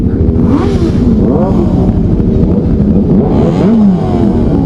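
A Suzuki Hayabusa motorcycle engine revs loudly and close by, its pitch rising and falling in surges with a steady rumbling drone.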